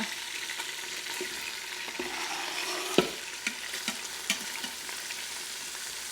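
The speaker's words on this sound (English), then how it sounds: "So I have a large onion that I've just chopped up. I'm going to add it to the pan or the pot." Chopped large onion sautéing in a hot pot for a Greek chicken stew, giving a continuous close sizzle and hiss with a handful of sharp spoon taps and stirring clicks near the middle.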